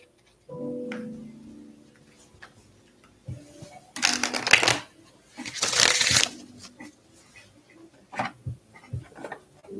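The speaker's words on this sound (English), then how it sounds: "Just want to go ahead and shuffle everything." Tarot cards being shuffled close up, with bursts of riffling and softer taps and clicks of the deck between them, no talk over the sound.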